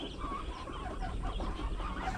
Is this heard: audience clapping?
no